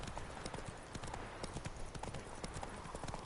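A horse gallops in Witcher 3. The hooves clip-clop in a quick, steady, driving rhythm, loud and close throughout and heard alone.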